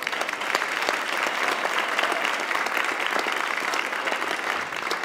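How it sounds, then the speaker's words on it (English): Steady, dense audience applause fills a Christmas band concert, loud and sustained throughout with no pause, a large crowd clapping together. "so give them another round of applause."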